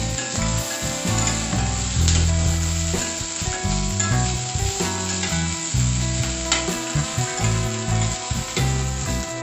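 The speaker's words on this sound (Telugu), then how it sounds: "next dry chillies, green chillies and garlic వీటిని కూడా ఆయిల్లో ఫ్రై చేసుకుందాం" Dry and green chillies, cumin and garlic fry in hot oil in a pan while bitter gourd is being cooked, giving a loud, steady sizzle with stirring scrapes throughout and no voices.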